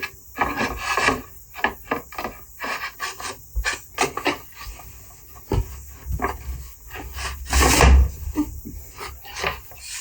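Wooden drawer being slid and fitted into a reclaimed-wood piano table, with repeated close rubbing and scraping strokes of wood on wood and a louder grinding slide near the end, no talk.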